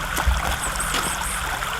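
Spring water flows steadily at the head of a creek, a continuous close rushing and trickling babble with no pauses and no voices.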